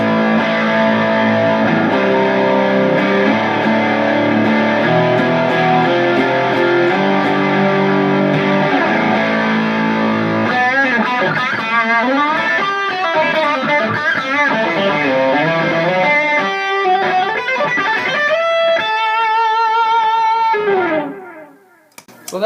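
Electric guitar through a Jet City distortion pedal: sustained distorted chords give way to fast, heavily overdriven riffs and lead runs, loud and continuous, ending abruptly.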